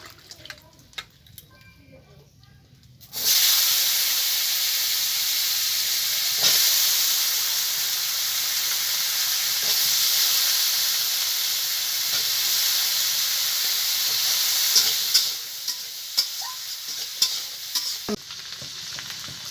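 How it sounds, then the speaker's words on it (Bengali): Potatoes frying in hot oil left from frying prawns, a loud steady sizzle that starts abruptly after a quiet opening and fades near the end, with faint stirring clinks. "এই তেলে আমি আলুটাকে একটু ভেজে নেব"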